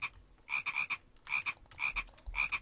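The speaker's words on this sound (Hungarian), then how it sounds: "Vigyázz! Béka hanggal." Frog croaks in a modded survival video game come in four rhythmic bursts of rapid, rasping pulses, fairly close and clear, with short quiet gaps between them and no talking.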